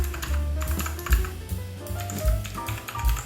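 Keystrokes on a pink RGB wireless mechanical keyboard, a fairly quick run of close clicky taps with soft thumps beneath, playing alone with no voices.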